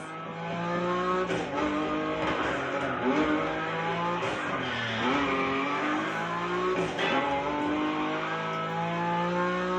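A car drifting in The Crew Motorfest: a loud, sustained engine roar with shifting pitch as the revs rise and fall, and tire squeal woven through it, continuous for the whole stretch with no talk.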